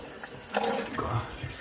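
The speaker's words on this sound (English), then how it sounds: "that's essentially allowing me to flush the main heat exchanger out without having to pour water or anything into it" Water rushes and gurgles through the main heat exchanger of a Worcester combi boiler as it is flushed during a full service, a close, steady splashing flow for a short moment.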